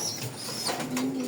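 Pigeon coos, faint and soft, from a Rajgolla pigeon at a loft in Kalampur, Dhamrai, Dhaka, set against a low background hum in a brief steady stretch.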